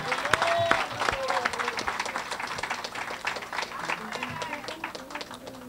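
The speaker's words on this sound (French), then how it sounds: "On nous applaudit pasteur, félicite." A church congregation claps for the pastor, a loose spread of hands applauding in a reverberant hall, with voices and murmurs mixed underneath.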